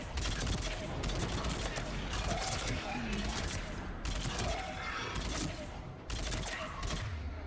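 Rapid bursts of gunfire from a Mass Effect 3 firefight crack repeatedly in short volleys, loud and close, with someone talking over the shooting.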